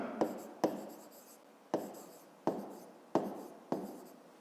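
A pen writes on paper during a fifth-grade math exercise, making six separate sharp scratching strokes with short pauses between them. The strokes are close and crisp, and no voice is heard.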